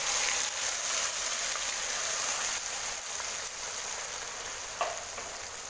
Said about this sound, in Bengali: এবার আমি রসুন, পেঁয়াজ, আদা, টমেটো, কাঁচা লঙ্কা পেস্টটা ঢেলে দিলাম।